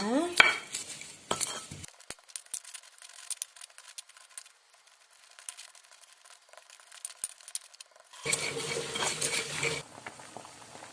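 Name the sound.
grinding spices with a mortar and pestle (ulekan)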